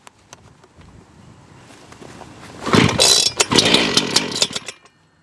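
The small two-stroke engine of a Geotrencher cutoff saw is pull-started with choke and decompression lever: a few quiet rattles, then it sputters to life and revs loudly in uneven bursts before settling.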